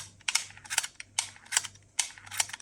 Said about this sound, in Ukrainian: Чути, що зуби якось проскакують.